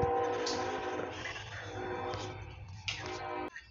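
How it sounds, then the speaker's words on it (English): A train rumbles past close by with a steady heavy roar and hiss, brief horn-like tones riding on top, before the noise cuts off abruptly near the end. "Don't mind that train, bro."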